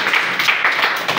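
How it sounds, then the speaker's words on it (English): An audience claps steadily, a dense patter of many hands sustained throughout without pause. "Can you clap for that?"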